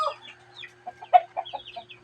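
Pet chickens cluck in a series of short, close calls at early dawn, with a faint low hum underneath.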